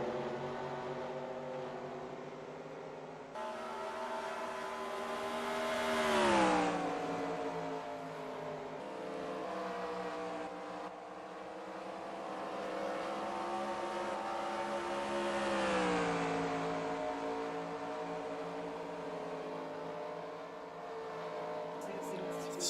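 Sim racing cars lapping the Iowa oval, their engines droning in layered, steady tones that swell and dip as packs pass by twice, loud and continuous throughout.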